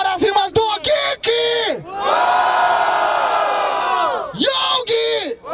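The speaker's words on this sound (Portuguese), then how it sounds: "Barulho para as rimas do Geek" Crowd at a Brazilian freestyle rap battle semifinal roars with cheers and shouts, with bursts of chanting followed by a long sustained collective yell, loud and close.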